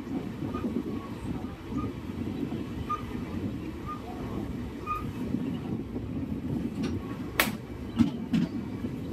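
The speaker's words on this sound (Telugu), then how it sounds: "ఇప్పుడే మన ట్రైన్ పాకాల రైల్వే స్టేషన్లోకి వెళుతోంది." Tirupati Intercity Express rolling into Pakala railway station, a steady low rumble of the coach with faint rattles and a few sharp clanks near the end, heard from inside with no talk.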